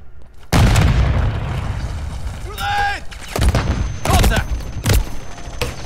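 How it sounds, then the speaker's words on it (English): A grenade goes off in Call of Duty MW3 multiplayer, a sudden loud boom followed by further blasts and gunfire, with game sounds between the bursts. "Grenade!"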